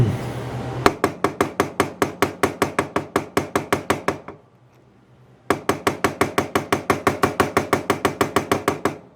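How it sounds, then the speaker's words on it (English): Rapid, evenly spaced sharp knocks strike a plastic handle on an Avantco cooler. They come loud and close in two long runs separated by a brief pause. "don't beat on that too much because that's a plastic handle"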